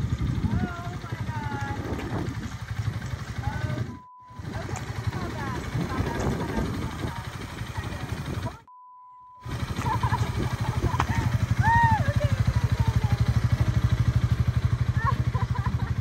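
A motorcycle engine runs steadily during a ride, with a continuous low drone and wind rush near the mic and brief cutouts in the sound.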